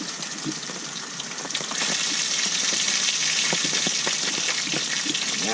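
Water heats on a camp stove, giving off a steady hissing, bubbling rush that grows a little louder partway through, with faint crackles and no talking.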